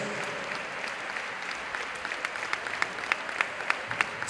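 Stadium crowd claps for La Roda's youth players at a match with Ponferrada, dense continuous applause with sharper individual claps standing out toward the end.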